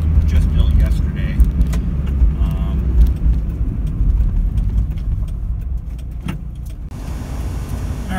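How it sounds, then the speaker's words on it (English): A 1994 Mazda Miata idles in a continuous low rumble, heard loud and close with faint jingling and clicks over it. "It's idling exactly as it's supposed to."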